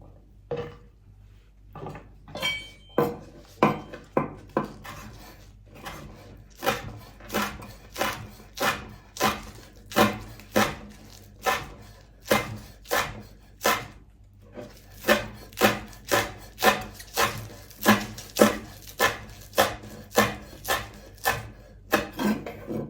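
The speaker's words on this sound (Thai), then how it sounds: "ลองสับได้ไหม มันจะสนั่นสะเทือนไปทั้งอพาร์ตเมนต์มาก ๆ เลยค่ะ" Heavy, repeated chopping of pork bones with a cleaver on a board in an apartment, dozens of sharp thuds in a fast, uneven rhythm, close and loud.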